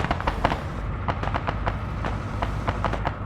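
Grenadier grenade-launcher fire and impacts in the military game Arma 3: a rapid string of sharp, popping blasts over a low rumbling battle background, fairly close and steady throughout.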